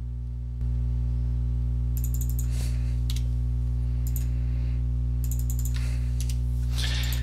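Computer keyboard keys clatter in short rapid bursts while an email address is typed, set against a steady low electrical hum.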